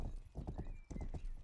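Horse galloping in the video game Rustler, a quick rhythmic run of hoof clip-clops with a brief whinny, heard close and fairly quiet with no voices.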